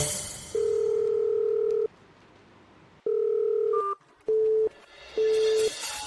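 On a phone call, a steady electronic ringback tone sounds in long beeps with pauses, followed by a few shorter tones of differing pitch, clear and close with no talking over it.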